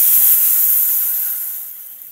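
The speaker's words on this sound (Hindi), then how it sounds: "इसमें हम डालने वाले हैं गरम पानी" Hot water poured into roasted vermicelli in a kitchen pan, giving a loud steamy hiss that starts strong and slowly fades over two seconds, with no talking.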